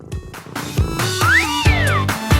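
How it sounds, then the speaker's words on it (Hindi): Cat meowing up close, a few short mews followed by one longer, rising and falling meow, loud and clear with no talking over it. "ओह, एक बिल्ली। और प्यारी बिल्ली, आओ।"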